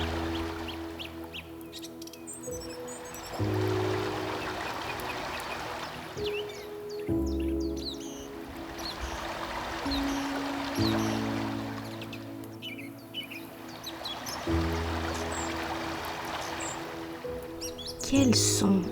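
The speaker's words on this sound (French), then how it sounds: "des oiseaux." Birds chirping and calling in a relaxing outdoor setting of sand, sun and flowers, sounding as scattered bright tweets over a steady background wash, moderately distant and soft.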